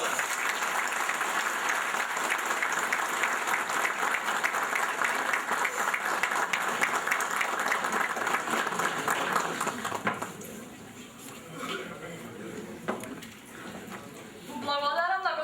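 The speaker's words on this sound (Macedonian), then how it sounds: "авторот од се срце со аплауз да го наградиме" An audience at a book promotion event applauds an author with loud, sustained clapping for about ten seconds, then it thins out and fades as a voice begins to speak.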